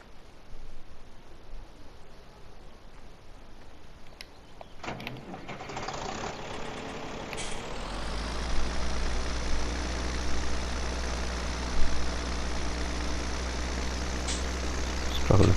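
A tractor engine in Farming Simulator 17, starting with faint mechanical clicks and clunks before a steady low idle takes over and runs loud and constant through the rest, with no talking.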